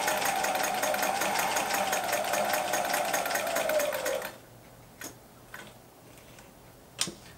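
A Thompson Mini Walking Foot sewing machine runs a wide zigzag stitch and reverses over it, a fast, loud mechanical chatter lasting about four seconds, then cutting off to a few isolated clicks and knocks.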